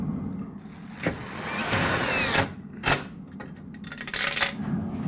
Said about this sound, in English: we're just using the self-drilling screw